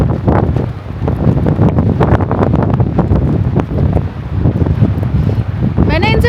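Strong mountain wind gusts loudly and steadily at Nako village, a high Himalayan settlement in Spiti, roaring into the microphone throughout with a brief whistling near the end.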